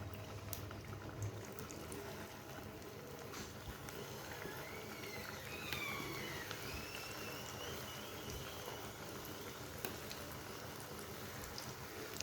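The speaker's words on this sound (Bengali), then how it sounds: "তেলটা গরম হয়ে গেছে, এবার আমি পিঠেগুলো দিয়ে দিব।" Pitha sizzling in hot mustard oil, a steady, soft crackling and bubbling hiss that goes on throughout with faint kitchen clatter underneath.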